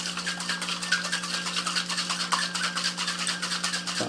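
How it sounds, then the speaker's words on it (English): Rapid rattling shake of a cocktail in a metal shaker tin, a dry shake with egg and no ice, steady and continuous at close range with a constant hum underneath. "We're going to give this a dry shake, and that'll emulsify the egg with all the rest of the ingredients in the cocktail."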